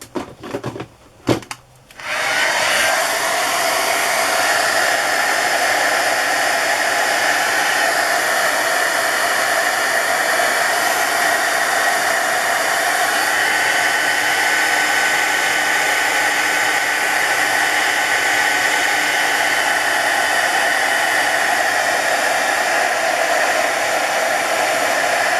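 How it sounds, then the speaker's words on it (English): A hair dryer blows over a freshly glued paper collage after a few brief clicks and handling noises, then roars steadily and loudly for the rest of the time, unbroken and close. "And I'll just dry it quickly."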